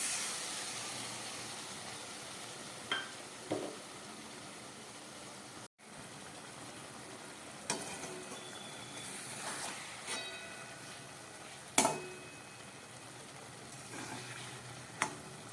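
A ground paste of mustard and poppy seeds hissing in hot oil while frying katla fish, a steady close sizzle with a few soft clicks and pops scattered throughout.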